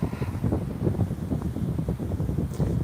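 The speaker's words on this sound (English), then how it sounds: "It's a bit wild, so I apologise about any wind." Wild wind gusts buffet the microphone outdoors in woodland beside a waterfall on bedrock. It makes a continuous rough, rumbling roar that rises and falls in uneven pulses.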